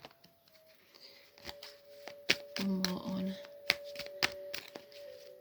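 Playing cards are riffled and shuffled in several quick, crisp bursts close up, with a person speaking briefly over them.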